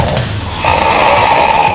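A person snores loudly and close up, a rough, rattling, low breath that grows harsher and fuller midway through a short stretch, with no other sounds.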